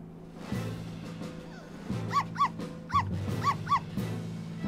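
A dog in the video game Layton vs Ace Attorney lets out a run of short whimpers and yelping barks in quick pairs over a repeating low electronic tone, up close.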